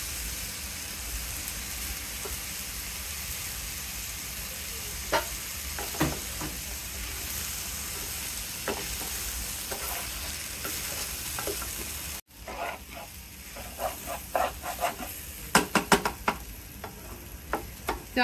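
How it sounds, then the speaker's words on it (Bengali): Rice for pilau frying in ghee sizzles steadily up close, then after a brief cut the sizzle goes on with sharper scraping and clinking stirring strokes. "চাল ভাজা হয়ে গেছে"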